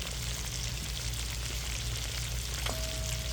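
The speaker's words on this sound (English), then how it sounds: "our pork is cooking beautifully" Pork with pork jowl bacon fries in a pan with a soft, constant sizzle over a low steady hum, even and unbroken throughout.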